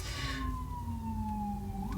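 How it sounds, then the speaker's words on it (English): A distant emergency vehicle siren wails in a long, slowly falling tone that bends back up at the end, steady and moderately faint over a low background rumble. "There we are with the sirens."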